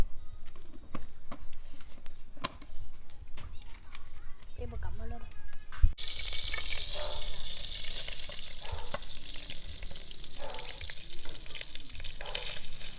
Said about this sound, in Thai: เราจะเจียวหอมครับผม